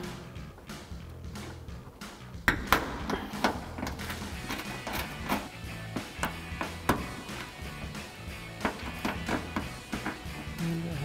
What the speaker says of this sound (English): go ahead and remove the 3 Phillips head screws holding our mud flap on